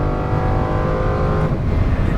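Lamborghini Huracan on a race track, braking hard and downshifting two gears: a loud, close, steady engine drone with dense harmonic tones that shift in pitch partway through, with no talk over it.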